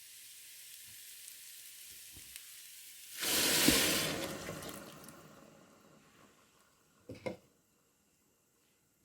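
Vegetables with turmeric frying in a soup pot, a sudden loud sizzle burst that gradually fades, followed by a couple of brief clatters.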